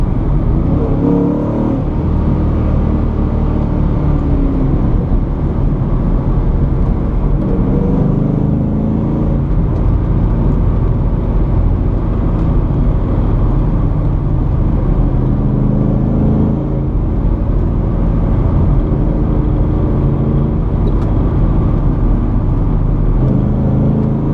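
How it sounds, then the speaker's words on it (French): A Ford Mustang GT V8 rumbles loudly and continuously from inside the car as it downshifts, the deep engine drone rising and falling with revs and no voices over it. "Lorsqu'on rétrograde, la voiture répond très vite."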